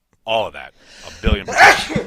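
A single sharp sneeze bursts out near the end, loud and close, right after someone speaks a few words.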